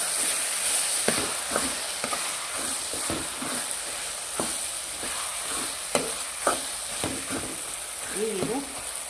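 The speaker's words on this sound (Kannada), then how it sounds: "ಕೊತ್ತಂಬರಿ ಸೊಪ್ಪು ಆ್ಯಡ್ ಮಾಡಿ ಒಂದ್ಸಲ ಮಿಕ್ಸ್ ಮಾಡ್ಕೊಳ್ಳೋಣ" Chitranna gojju made with heralekai gets a stir in a hot pan after coriander leaves go in, giving soft sizzling with intermittent scraping and stirring clicks.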